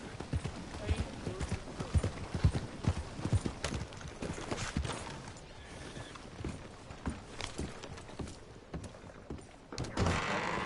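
Horse hooves clip-clop on a street in Red Dead Redemption 2, a steady walking rhythm beneath people talking nearby, with occasional knocks and mechanical clunks.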